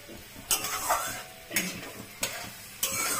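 Steady sizzling of mung dal frying with spices and dried chillies in a hot pan, with several sharp scraping stir strokes cutting in at intervals.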